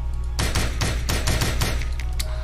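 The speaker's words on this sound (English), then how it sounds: "There's also new pistol, and there are new reload animations for some guns, mainly pistols." Rapid video-game pistol gunfire, a run of sharp loud shots in quick succession after a brief quiet start, with later shots thinning out near the end.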